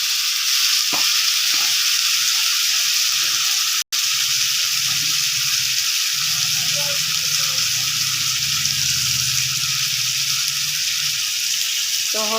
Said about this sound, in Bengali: এখন অল্প সময় মশলাটাকে ভালোভাবে কষাবো